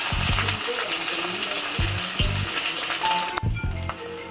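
Oil sizzles steadily in a pan with green chilies, cumin, curry leaves and dried chilies, a continuous frying hiss under periodic low clunks of stirring, and a brief tone near the end.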